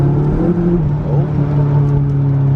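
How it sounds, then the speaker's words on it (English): A supercharged Honda Civic engine revs hard and holds a loud, steady whine as the tires spin loose on a rain-soaked road, with a wet hiss underneath. "Broke the tires loose."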